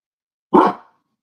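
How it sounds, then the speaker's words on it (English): Excited dogs, one of them a dog named Watson, let out a single loud burst of barking, close by and short, with nothing else around it. "You're hearing my dogs excited about the Browns game."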